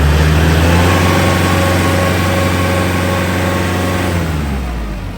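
Land Pride WC1504 wood chipper running steadily, a loud continuous mechanical drone with strong low hum that eases slightly toward the end, heard close with no talking.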